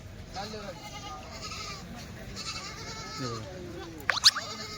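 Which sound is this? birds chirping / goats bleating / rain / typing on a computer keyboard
goats bleating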